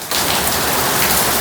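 Heavy rain pours down steadily, a dense, loud, close hiss of drops hitting surfaces that starts abruptly and continues without pause.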